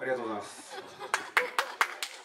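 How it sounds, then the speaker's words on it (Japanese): A short burst of hand clapping from a small group at a YOSAKOI festival taiko performance follows a person speaking, the claps sharp and spaced. "拍手"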